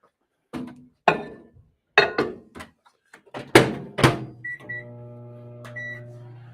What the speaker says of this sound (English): let me get these, like I said, in the microwave, get them heated back up